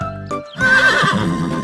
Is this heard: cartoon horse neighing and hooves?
yes